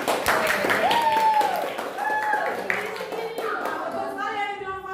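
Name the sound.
children applauding in a classroom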